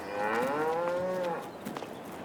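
A cow moos in Farming Simulator 25, likely a Jersey or Friesian: one long, loud, close bellow with a wavering pitch that lasts just over a second and then fades to quiet.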